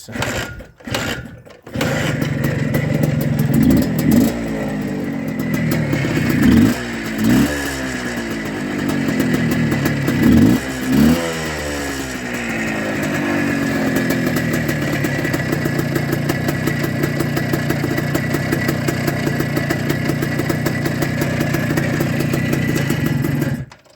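A motorcycle, one of several bikes offered for sale alongside cars, is kick-started while hot and catches, its engine firing with a few uneven revs before settling into a steady, loud idle close by.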